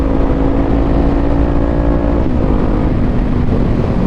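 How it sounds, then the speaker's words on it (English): Steady, loud roar of wind buffeting an AGV K6S motorcycle helmet at riding speed, a dense continuous rush with engine drone beneath and no break throughout. "The wind noise is definitely a little louder, I'd say, than the Sedici."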